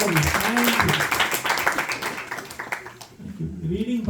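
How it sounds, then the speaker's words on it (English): An audience at a Bhakti Vriksha group gathering claps for a presenter, a brisk patter of hands that runs for about three seconds. Voices talk over and around it, then it drops away. "please give a round of applause to Sheetal Mataji"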